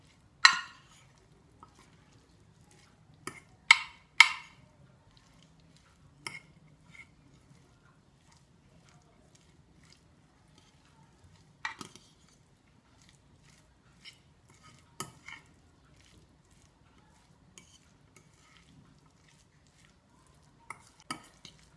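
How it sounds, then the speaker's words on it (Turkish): A Turkish cheese salad, gypsy salad, mixed in a bowl with a utensil, giving scattered scraping and clinking strokes in short bursts separated by quiet pauses, fairly close. "Güzelce karıştırıyorum."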